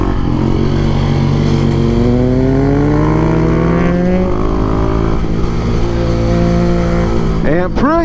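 A Husqvarna 701 supermoto motorcycle engine revs and pulls through gears on a twisty mountain road, loud and close with rising pitch sweeps, another bike passing near the end.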